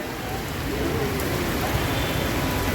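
A moderate rain shower pours down without pause, a dense, uniform wash of drops that holds steady and loud from start to finish.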